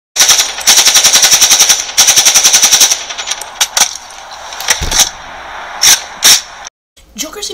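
Rapid automatic gunfire from Batman: Arkham Origins, two long sustained bursts followed by scattered single shots and short volleys, loud and close, ending with a brief silence.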